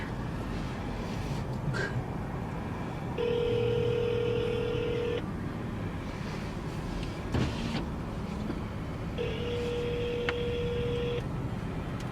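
A phone call rings out on the line, with two steady ringback tones about two seconds long separated by a longer silent gap, over quiet background hiss.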